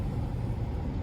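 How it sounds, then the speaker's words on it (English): A car engine idles close by inside the vehicle, a continuous low rumble at steady volume with no other sounds on top. "So I already have the car on"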